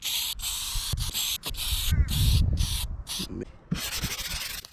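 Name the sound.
spraying and sanding BMW E90 boot paint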